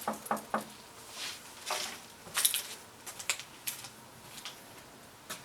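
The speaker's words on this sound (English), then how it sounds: "Knock on this wood here." Knuckles knocking on wood in a wood yard, a series of crisp hollow raps in small irregular clusters, close and distinct against a quiet background with no talking.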